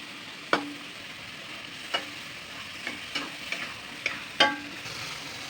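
Ingredients for dry chicken noodles fry quietly in a pan with a soft sizzle, punctuated by several sharp scraping stirs and utensil taps at irregular intervals.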